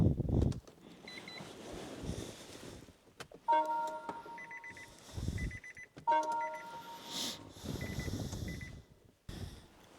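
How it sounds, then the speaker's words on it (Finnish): Electronic beeps and chimes sound repeatedly from an electric car, short tonal bursts in clusters, mixed with intermittent thumps and rustling nearby. "Sen verran piippasi tuo auto tuossa koko ajan"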